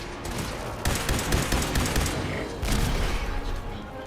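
Rapid gunfire from weapons in the video game Fallout 4, dense continuous bursts of automatic shots filling the whole clip, loud and close, with slight pauses between volleys.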